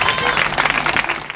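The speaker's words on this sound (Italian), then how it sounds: "il primo applauso che vorrei appunto è per voi stessi" A short burst of lively applause from the audience at an evening book presentation, dense and fairly loud, with no voices over it.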